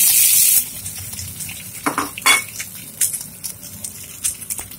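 Meat dropped into hot oil in a pan for spring rolls hisses under scattered scraping and tapping from a utensil stirring and breaking it apart, with no voices.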